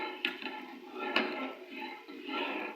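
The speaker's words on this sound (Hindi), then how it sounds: "हल्का सा चम्मच हिलाएंगे" A spoon stirring milk vermicelli with cardamom in a metal pot, two faint clinks against the pot amid soft sloshing, with someone talking quietly over it.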